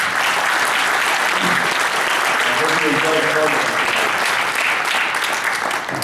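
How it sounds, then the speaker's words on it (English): Steady applause from a crowd fills the whole stretch, loud and sustained, with a voice speaking briefly over the clapping. "I'd like to have a round of applause"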